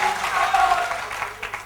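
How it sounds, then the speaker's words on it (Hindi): Audience applause at a Sri Sonana Khetlaji devotional jagran gathering in Bangalore, a steady crowd-wide clapping that stays fairly even in level, with a voice faintly mixed in underneath. "तालियां बजाइए श्री महेंद्र जी मोड़ो साहब के लिए।"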